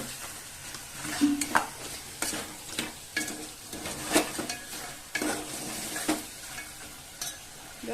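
Chili powder fries in hot oil for a chicken curry, giving a steady, close sizzle broken by repeated scraping and stirring strokes of a spoon against the pan.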